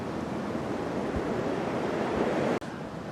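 Ocean surf breaking over a reef at a Fiji pro surfing event, a constant roaring rush of whitewater with wind buffeting the microphone and one abrupt dropout near the end.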